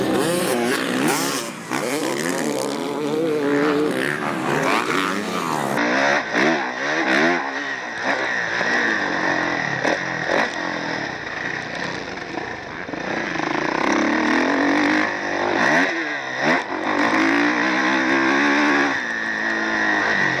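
A 2014 Kawasaki KX450F motocross bike at Milestone Racetrack in Riverside, California revs hard and continuously, the engine note rising and falling as it accelerates, loud and close with a heavily processed, distorted edge.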